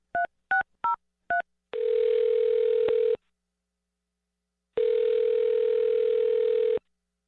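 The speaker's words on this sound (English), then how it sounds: "I'm going to dial her phone number right now." A landline telephone plays four quick touch-tone dialing beeps, then a steady continuous tone sounds for over a second, pauses, and returns for about two more seconds, clean and close with no voices.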